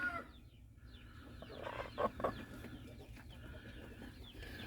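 Chickens cluck softly nearby, with a broody hen among them, giving low murmuring clucks and a couple of brief sharper calls over a quiet farmyard background, with no talk.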